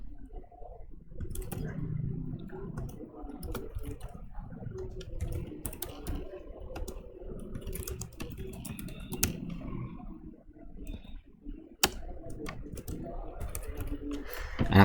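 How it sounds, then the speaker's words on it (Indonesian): Typing on a computer keyboard while writing a story in Microsoft Word, a steady run of soft key clicks with scattered sharper taps, heard under a low background hum and occasional talk. "Kemudian kita ketikkan lagi."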